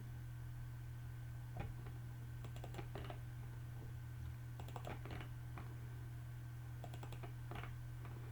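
Faint computer keyboard typing in short clustered bursts of clicks over a steady electrical hum, recorded during a CST Studio antenna design lesson, with no talking.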